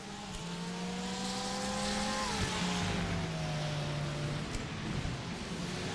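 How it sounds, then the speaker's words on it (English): Race cars at the Algarve circuit, including an Acura and a Porsche in a GTP, LMP2 and GT3 series round, pass with engines revving through gear changes, their pitch climbing and dropping, moderately distant and loud against steady track ambience. "always like listening to the two different kind of tones of the engine between these two cars"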